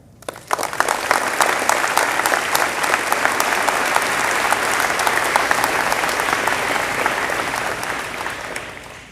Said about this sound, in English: can we please get a round of applause for all of the teachers and parents